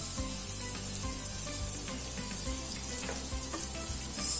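Butter melting in a pan gives a steady, close sizzle with fine crackles, running evenly throughout with a brief rise near the end; no one talks.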